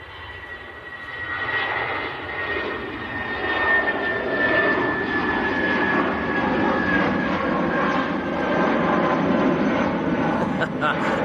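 A British Airways jet rolls down the runway on its takeoff run toward London Heathrow at dusk, a broad, steady engine roar with a rising whine, heard from a distance with some talk over it.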